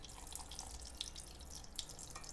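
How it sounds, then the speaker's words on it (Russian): Cold water is poured into glass jars of pickled honey mushrooms, filling them up to the shoulders: a steady, faint running-water hiss with a few soft drips and splashes. "Воду я наливаю по плечики банок"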